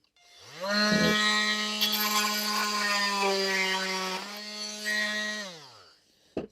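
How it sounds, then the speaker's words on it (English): An oscillating multi-tool trims the edges of a piston pump, giving a steady, loud buzzing whine for about five seconds before it winds down, close up, with no talking. "I'm continuing my productive streak by trimming off the edges of the piston pump using this multi-tool"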